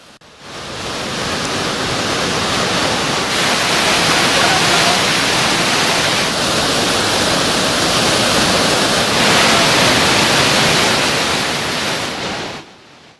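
Hogenakkal waterfall in heavy spate, with flow risen to 18,000 cubic feet per second, gives a loud, continuous broadband roar of crashing water that fades in and out at the edges.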